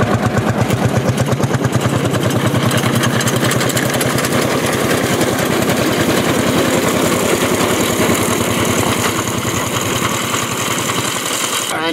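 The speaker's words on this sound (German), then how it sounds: "Der blaue Traktor blubbert vor sich hin" A blue Lanz Bulldog tractor pulling a 5-foot reaper-binder through ripe grain chugs loudly and close with a steady, rapid single-cylinder thump that stays even throughout, alone without voices.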